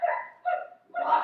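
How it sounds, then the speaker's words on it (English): Dog barking offstage during a youth stage play of Puss In Boots: three quick, moderately loud barks in close succession, with nothing else heard. "Listen! It's only a dog."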